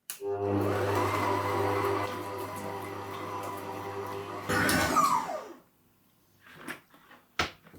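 Stand mixer motor whirring steadily as it kneads doughnut dough with room-temperature butter for baked doughnuts, a continuous hum that stops with a clatter, followed by a few faint knocks.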